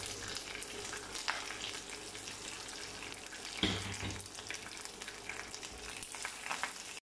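Curry leaves and crushed garlic sputter in hot tempering oil, a continuous close crackling sizzle with a sharper pop partway through and no voices.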